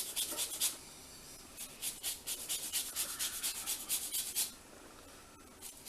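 A lemon is zested over a dish in quick, rhythmic rasping strokes, a dozen or so close, scratchy scrapes in steady bursts, then a short pause, with no talking.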